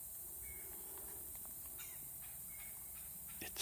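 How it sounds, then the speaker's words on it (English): A bird squawks faintly from somewhere back in the brush, giving a few short distant calls over a steady outdoor hiss. "There's a bird squawking"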